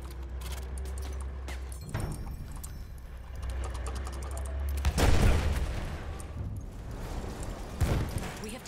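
Enemy machine gun fire in Battlefield 1 crackles in bursts over a low rumbling battlefield, with a louder blast of fire near the middle and distant shots and shouting around it.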